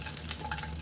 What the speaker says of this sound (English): And then into that oil, the asparagus.